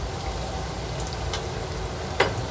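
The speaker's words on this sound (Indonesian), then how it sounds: "Jadi kita goreng dulu sebentar." Vegetables frying in a pan for a spicy coconut-milk young papaya dish, a steady crackling sizzle with a few sharper pops.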